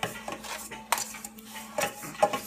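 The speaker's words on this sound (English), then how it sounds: "Now we shall whisk." A whisk clatters against a bowl while mixing cream cheese and sugar, giving irregular scraping taps and a few sharper clinks, close and fairly quiet.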